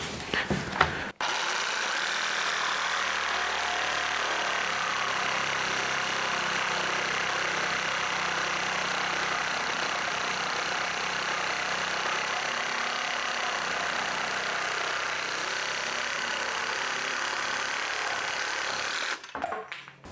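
A FERM Action reciprocating saw cutting through wood, a steady, loud buzzing drone that runs almost unbroken for about eighteen seconds after a brief start, with no talk over it.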